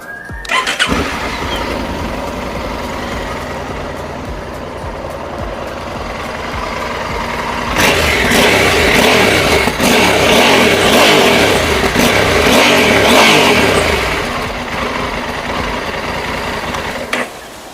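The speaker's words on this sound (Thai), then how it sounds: "เดี๋ยวลองสตาร์ทเครื่องให้ฟังเสียงกันดูนะครับ" A 2021 Honda CRF1100L Africa Twin motorcycle engine cranks and catches, idles steadily, then revs up loudly for several seconds before settling back to a rumbling idle, close by with no talking.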